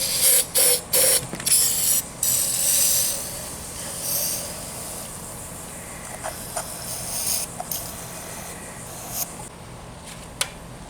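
Several short, loud hissing bursts of aerosol oven cleaner spraying up close, then quieter scattered clicks and rustles with a low background hum.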